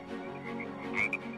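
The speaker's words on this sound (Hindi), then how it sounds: "मुझे काफी देर से मेंढकों की आवाज आ रही है जी" A chorus of frogs calling from a pond behind a rural home, continuous croaking with a sharper, louder pair of calls toward the end, no voices present.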